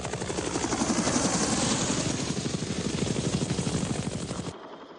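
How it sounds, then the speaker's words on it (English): A UH-1 Huey helicopter's rotor thumps in a rapid, steady beat, loud and close, then cuts off abruptly near the end. "the basic infantry transport helicopter was the UH-1 Huey"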